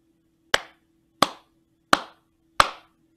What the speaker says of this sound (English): I'm gonna clap one more rhythm